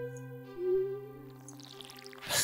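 Watering crops with a watering can in Stardew Valley: a soft, bright game chime and pouring effect rises over steady tonal background music, ending in a brief splashy burst.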